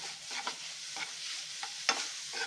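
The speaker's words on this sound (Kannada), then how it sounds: "ಕಾಲು ಸ್ಪೂನು ಅರಿಶಿನ ಪುಡಿ ಹಾಕ್ಕೊಳ್ತಾ ಇದ್ದೀನಿ. ಸ್ವಲ್ಪ ಫ್ರೈ ಮಾಡ್ಕೊಳ್ಳೋಣ." Onions, chopped garlic and a quarter spoon of turmeric frying in a pan, a soft sizzle broken by a few scraping strokes of the spoon, with no talk.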